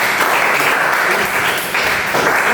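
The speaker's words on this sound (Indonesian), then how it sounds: "tepuk tangan dulu buat Bapak." An audience in a teacher-training session claps for a speaker, a dense and fairly loud burst of applause that continues unbroken through the short stretch.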